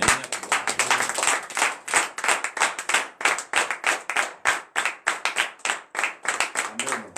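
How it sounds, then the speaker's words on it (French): A church congregation at morning prayer in Benin claps together in a steady, rhythmic beat that continues throughout, with faint voices underneath. "Donner une acclamation."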